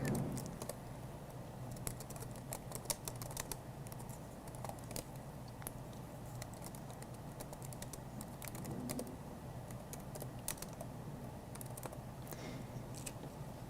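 Steady typing on a computer keyboard while entering invitation text in design software, a continuous patter of close, light key clicks running throughout at moderate level with no talk.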